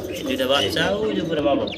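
Pigeons coo in soft, rolling calls close by, mixed with a person talking over them.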